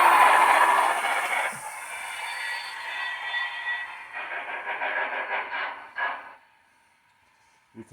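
A Union Pacific FEF-2 Northern class steam locomotive backs up slowly, releasing a loud hiss of steam followed by a run of rhythmic chuffs, then fading to near quiet with a few faint clanks.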